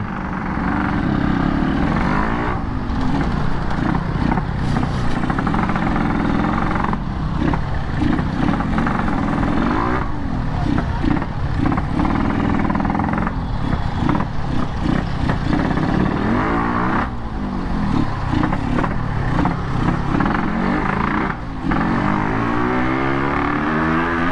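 A motorcycle engine hums steadily at close range while riding along a road, with gear shifts and rises and falls in revs and no talking.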